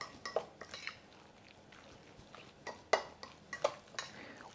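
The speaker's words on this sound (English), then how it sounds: "We basically are just kind of folding everything together" A spoon or utensil scrapes and clinks against a bowl while salmon croquette mixture with egg is folded together, with soft irregular taps and a few sharper knocks, faint and close.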